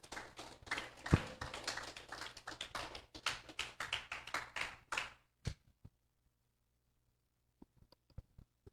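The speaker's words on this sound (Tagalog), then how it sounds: "Okay, so palakpak muna, palakpak." An audience at a seminar claps hands in a dense, lively burst for about five seconds, then it cuts off abruptly, leaving near silence with a few faint scattered taps.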